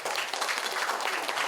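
Dense, steady audience applause at a South Korean provincial council policy forum on K-pop and regional culture, loud and continuous throughout.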